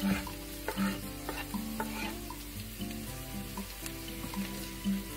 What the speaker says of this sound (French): On le fait revenir 2-3 minutes. Je rajoute l'oignon frais.